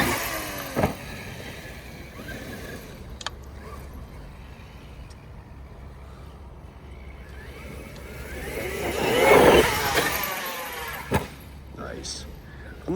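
A Traxxas X-Maxx RC car driving and launching off a jump: a high electric motor whine that swells to a loud peak near the end, with wheel and chassis thuds, under a voice talking.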